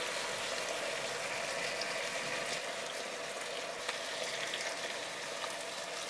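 Salmon fillets cooking in a pan give off a soft, even sizzle and bubbling that runs steadily throughout, fairly faint and with no talking over it.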